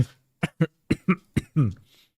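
Several short, sharp coughs in a quick series, ending in a longer raspy throat clear, close and fairly loud with no talking.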